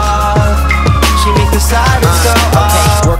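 A wailing siren tone sweeps over a thumping, rhythmic hip-hop beat with heavy bass hits in a song, loud and continuous throughout.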